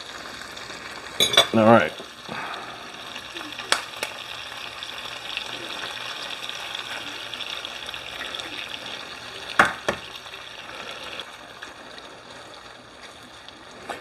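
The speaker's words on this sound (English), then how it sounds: "So all I'm doing is just heating this up." Sausage and pepper omelet mixture heats in a pan with a low, steady sizzle that runs the whole time. A few louder clatters and stirring bursts break through, and a voice speaks briefly near the start.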